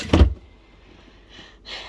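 A refrigerator crisper drawer slides out with a sharp bump, then quieter rolling and rustling as it moves, with another brief scraping slide near the end.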